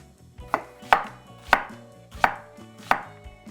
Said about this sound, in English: Slice up half an onion.